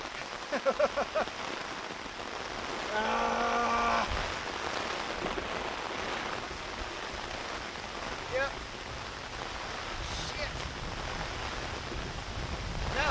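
Steady rain falls outdoors as a constant broadband hiss, with brief voice-like tones and voices heard under it early on.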